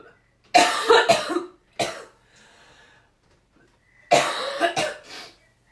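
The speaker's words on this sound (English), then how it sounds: "the more I talk, the more I cough." Several harsh coughs in two bouts separated by a quiet stretch, close by, with a faint breath in between.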